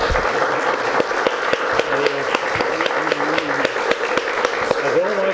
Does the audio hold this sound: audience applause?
yes